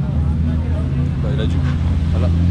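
BMW 323i tuning car driving past, a steady loud engine drone with a low rumble that stays constant throughout and sits under a faint background murmur.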